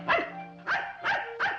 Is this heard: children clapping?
no